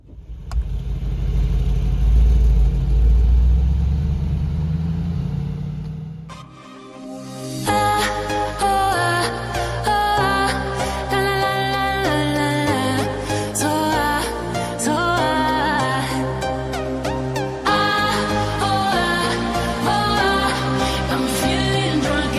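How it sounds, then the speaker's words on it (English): A Mercedes-Benz AMG G-class engine cranks and fires into a loud, deep roar for about six seconds, then music takes over and masks it. "Let's start the engine."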